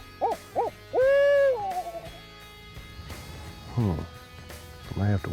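A hunter's voice imitates an owl's hoot with a series of loud, close, rising-and-falling calls, including a drawn-out wavering note, broken by brief pauses and ending with a final burst of hoots.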